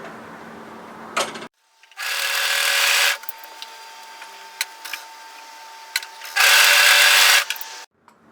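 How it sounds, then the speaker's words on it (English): Overlocker stitching the short ends of skirt fabric together in two steady, loud whirring bursts of about a second each, separated by quiet handling and small clicks. "we're going to overlock these short ends together"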